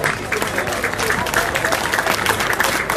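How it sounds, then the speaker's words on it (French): Audience applause at an award ceremony in Guadeloupe, a steady, dense clapping from a crowd that holds at an even level throughout, without pauses. "On peut applaudir une nouvelle fois cette formation des anonymes, s'il vous plaît"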